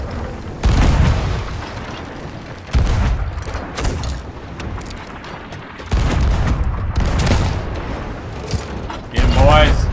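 Ship cannons firing in the Sea of Thieves video game, several loud, heavy booms at intervals, with people shouting and talking excitedly between the blasts.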